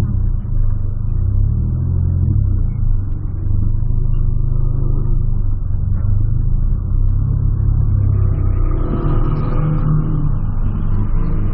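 A Volkswagen Polo pulls out of a bakery parking lot, its mid-pitched engine rumbling steadily up close and rising as it accelerates toward the end.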